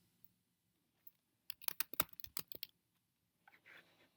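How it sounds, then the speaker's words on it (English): A short burst of keyboard and mouse clicks, quick and close, with a few isolated clicks before and after, like typing and selecting to save an image. "I'm going to right click and click Save Image As"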